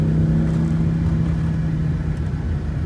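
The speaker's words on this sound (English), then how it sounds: "Just listening to the 5-cylinder music." An Audi Ur Quattro's five-cylinder engine runs close by with a deep, steady droning rumble and a strong low hum, holding a fairly even note without sharp revs and no voices.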